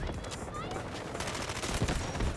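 Video game gunfire from Delta Force comes in rapid, dense bursts of shots, with players talking underneath the shooting.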